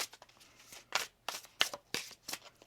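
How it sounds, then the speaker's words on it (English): Tarot cards being shuffled, a string of crisp riffling bursts in an uneven rhythm, close and moderately quiet. "One more shuffle"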